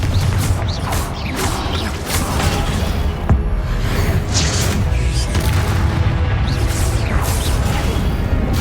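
Repeated Confringo spell blasts burst in Hogwarts Legacy amid dense combat effects, with booms, whooshes and crashes layered over a loud, continuous battle din.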